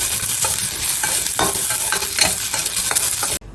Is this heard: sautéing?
yes